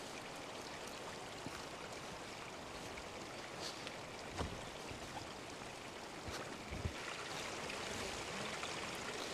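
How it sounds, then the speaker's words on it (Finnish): A small stream flows out of a bog at the edge of a nature reserve, giving a steady, close trickling wash with no voices. "Lähdetäänpä seuraamaan tuota puroa, mikä tosta suosta lähtee."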